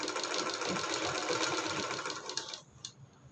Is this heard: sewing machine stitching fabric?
yes